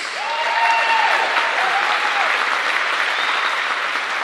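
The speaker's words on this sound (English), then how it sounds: "Another round of applause for these young ladies" A gym crowd applauds young women volleyball players after a conference championship match, steady dense clapping that fills the space, with faint vocal tones rising through it.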